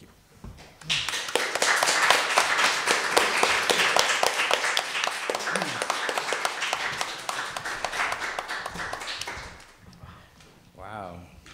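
Audience applauding poetry presenters at a Latinx poetics panel event, rapid steady clapping that builds quickly and holds for several seconds before fading, with voices talking near the end.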